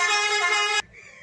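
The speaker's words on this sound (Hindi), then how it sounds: "सॉरी पीछे से बस का हॉर्न आ गया था" A bus horn blares from outside in one loud, sustained honk lasting most of a second, then cuts off abruptly and leaves faint background noise.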